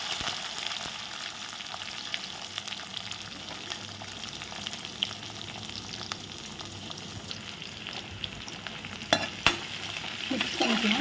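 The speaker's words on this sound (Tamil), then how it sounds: "மிக்ஸ் பண்ணிக்கலாம்." Onions fry and sizzle in a pan while being stirred for a bottle gourd sambar, a steady close hiss with scraping spoon movements and a few sharper clinks near the end, no talking.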